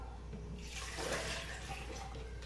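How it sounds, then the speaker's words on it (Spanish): Water is poured into a container while preparing a breakfast, a short, close gushing splash that swells in the middle and then eases off, with no talking. "Entonces, voy a echarle el agua."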